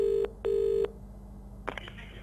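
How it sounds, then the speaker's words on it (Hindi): Telephone ringback on a call line: two steady electronic ring tones, a longer pause between them, then a click as the line connects, heard up close over a faint background hiss. "बेल जा रही है।"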